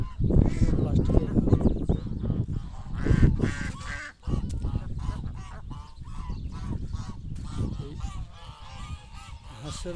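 Geese honk repeatedly on a duck farm in Kuwait, loud and close, in a steady stream of overlapping calls while someone talks throughout.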